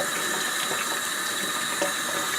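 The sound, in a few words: water running from kitchen faucet rinsing aerator screen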